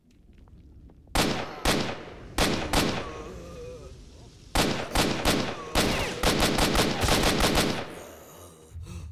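Gunfire in S.T.A.L.K.E.R.: Shadow of Chernobyl, with loud, sharp shots in uneven bursts and quick rapid-fire runs against a low game ambience, separated by short gaps.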